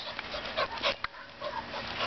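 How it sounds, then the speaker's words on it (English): A puppy pants and whimpers softly close by, with a few small yips breaking through the quiet background. "What a good puppy you are."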